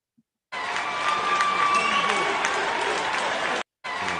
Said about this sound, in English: the Democratic watchers are clapping as the GOP poll watchers are being removed